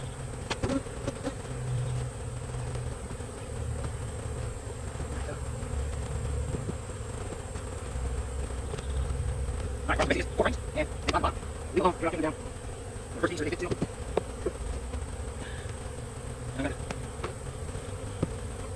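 Bees swarm around an opened beehive during a mated queen introduction, a dense, continuous buzzing close by, with individual bees droning past the microphone and faint talk underneath.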